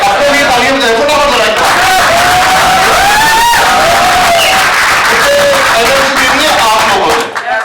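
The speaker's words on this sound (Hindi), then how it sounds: "आपको भी तालियां बजाएं फटाफट" Audience at a theater workshop at Madina University, Faisalabad, claps loudly and continuously, with whoops, cheers and chattering voices mixed into the close, energetic applause.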